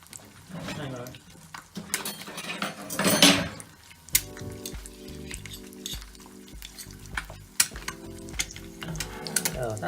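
An egg frying in butter in a pan, a steady crackling sizzle with spoon and pan clinks, a burst of louder spitting partway through, while a person talks over it.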